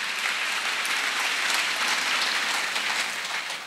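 A church congregation at a Pentecost-season service applauds steadily and loudly throughout, with many hands clapping together in a dense, even wash of sound.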